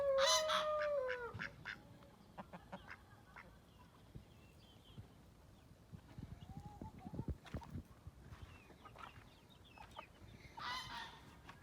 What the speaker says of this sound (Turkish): Vakvaklarımız var. Gazlarımız var.